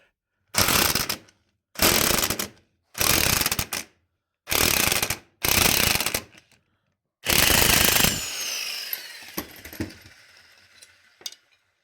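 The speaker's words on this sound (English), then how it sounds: "Then you simply put your impact back on here." An impact wrench removes lug nuts from the hub of a 1976 Jeep J10, firing in six loud, close bursts of rapid hammering separated by short pauses, followed by faint metallic clinks and rattles.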